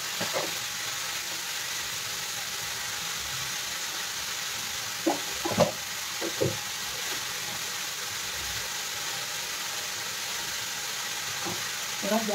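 Carrots and peas frying in a covered pan over lowered gas, a steady close sizzle with a few brief knocks partway through.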